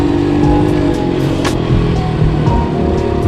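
A pit bike engine revving hard while overtaking on a road, a loud close buzzing drone with wind rush and a few quick pitch shifts as throttle changes.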